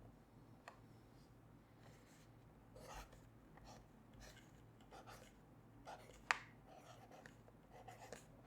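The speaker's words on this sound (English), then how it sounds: "And I'm gonna write it" Soft close pen scratches writing on a wrapped gift, quiet intermittent strokes over about eight seconds with a few sharper taps near the end, no speech.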